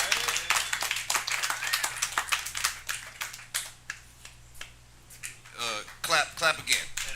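A comedy showdown audience gives scattered, uneven applause as a comedian is brought on stage. Sharp claps come in bursts over the first few seconds, thin out, and give way to a nearby voice talking.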